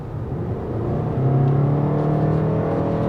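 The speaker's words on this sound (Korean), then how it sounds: "엔진 소리가 좀 안으로 많이 들어옵니다." Toyota Crown dual-boost hybrid with E-Four all-wheel drive, engine hum heard from inside the cabin as a steady low drone that rises slightly in pitch while accelerating, with no talking.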